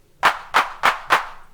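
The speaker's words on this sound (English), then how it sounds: "Little clap." Four evenly spaced, snappy electronic handclap hits from a Max for Live clap device in Ableton 11 sound dry and up close, each a short noisy burst with a quick tail, and nothing else is heard.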